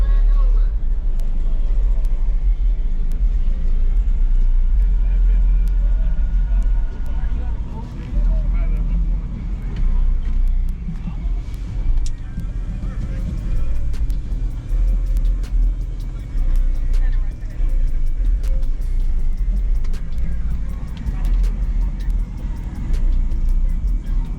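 Heavy booming bass thumps from a car sound system with two 15-inch Sundown XV3 subwoofers on Taramps 8K amps at a car audio show, loud and pulsing, with people talking over it.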